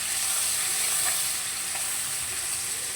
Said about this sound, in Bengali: পেঁয়াজটাকে দিয়ে পেঁয়াজটাকে একটু হালকা ভেজে নেব।